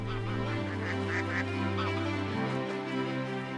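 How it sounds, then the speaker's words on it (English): A flock of bar-headed geese honks repeatedly in a wetland, overlapping nasal calls close by over a low steady background hum. "A flock of bar-headed geese."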